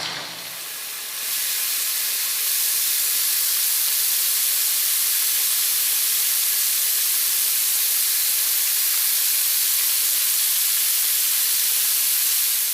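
Potatoes fry in oil in a pan with a loud, steady sizzling hiss that jumps up after the first second and then holds unbroken, close, with no talking over it.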